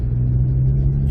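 A 1983 Ford Fiesta Mark I 1.3 Ghia drones steadily at cruising speed, a loud, even low engine rumble filling the cabin without a break.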